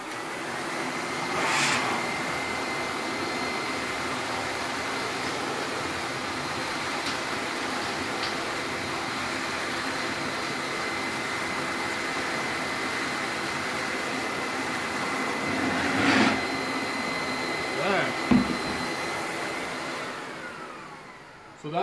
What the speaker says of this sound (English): I'm gonna suck it up with the CamVac